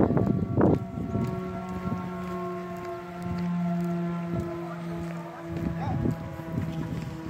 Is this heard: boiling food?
no